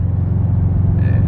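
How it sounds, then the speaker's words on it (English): Deep, steady engine rumble from a Subaru WRX STI sedan on the move, a loud low throb heard from inside the car with a faint higher whine joining near the end. "I really like the Subi Rumble."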